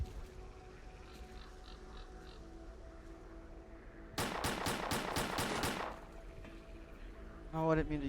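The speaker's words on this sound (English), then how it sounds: "Why are they shooting me through the fence?" Gunfire in S.T.A.L.K.E.R. Clear Sky: a quick, loud burst of about seven automatic shots breaks a quiet ambient scene partway through, and a brief rasping sound follows near the end.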